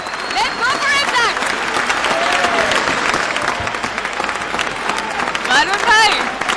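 A large audience at a staged promotional event applauds and cheers loudly and steadily throughout, with whoops and voices rising over the continuous clapping.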